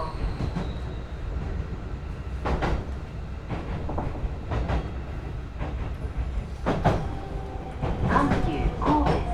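A Hankyu 8000 series train, set 8020F with Toshiba GTO control, runs along the line on a limited express service, with rumbling wheels, rhythmic rail joint clicks and occasional squeals. A voice can be heard underneath.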